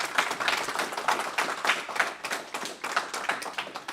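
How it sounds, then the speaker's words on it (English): A classroom audience at a final project presentation applauds a team, a brisk, fairly dense round of hand claps heard at moderate distance, lasting a few seconds. "applaud again for amazing work"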